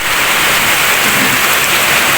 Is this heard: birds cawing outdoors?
no